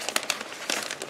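Crinkling of a shiny plastic bag from a sneaker box, a few sharp crackly bursts close up, with no talking.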